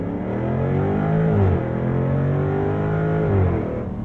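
A 2022 Jaguar F-Type P450 sports car engine pulling hard under acceleration, a loud rising growl with rapid upshifts heard as the pitch drops and climbs again, close and continuous.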